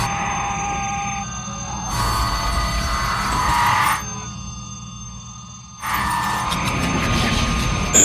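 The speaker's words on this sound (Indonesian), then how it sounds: "Alec melihat beberapa pesawat yang keluar dari dalam air dan mengeluarkan suara ultrasonik" Alien aircraft rising from the water let out piercing high-pitched bursts in pulses over a low rumbling roar, with a short lull between blasts.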